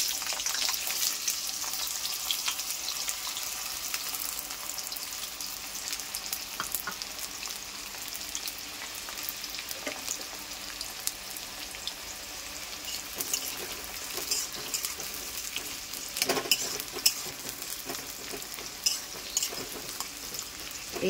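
Chopped onion frying in lightly heated oil, a continuous close sizzle and crackle with occasional clinks and stirring scrapes from the pan, steady throughout without any talking.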